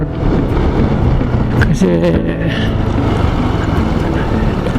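Loud wind buffets the microphone in a steady roar on a roadside near Mayon Volcano, with a brief passing engine-like sound and a few spoken words.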